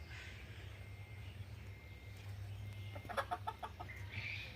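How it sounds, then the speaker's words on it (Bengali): Chickens on a farm cluck faintly against a low background hum, with a short cluster of clucks near the end and no speech. "এই দেখুন বন্ধুরা, এই পাশে মুরগি রাখা আছে।"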